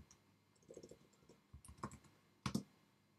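Clicking keystrokes on a computer keyboard while writing Xcode code, in an irregular run of light taps followed by a pair of louder, sharper key strikes, close and alone.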